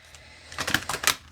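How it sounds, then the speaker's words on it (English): Alana Fairchild Love Your Inner Goddess tarot cards are shuffled close by, making a quick run of soft riffling snaps for about a second. "I'm going to shuffle on the side because I'm going to mess up all the cards"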